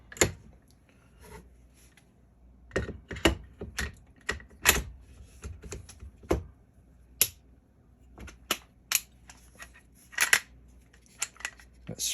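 Metallic clicks, snaps and scrapes as a Haenel CR223 AR-style rifle is put back together by hand, with scattered sharp parts-fitting clacks at close range and quiet pauses between, no talking.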